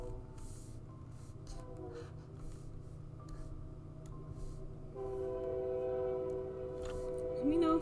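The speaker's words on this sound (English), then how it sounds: "Let me know if the train gets too loud." A train passes on a nearby track: a faint low rumble builds, then sustained horn-like tones swell in the last few seconds, heard at a distance.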